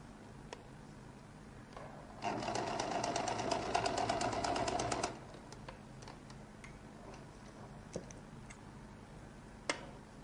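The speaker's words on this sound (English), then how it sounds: "sew this place. That's the edge of the collar. Sew by the side." A sewing machine stitching along the collar edge of a lady's jacket, one rapid burst of rhythmic needle ticking lasting about three seconds, with quiet handling clicks before and after.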